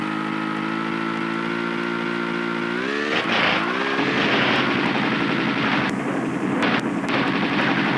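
Snowmobile engine from the 1997 video game Tomb Raider 2, a loud continuous harmonic drone that rises in pitch around the three-second mark as the throttle opens wide, then holds a rough, gritty revving tone with a brief cutout near the end.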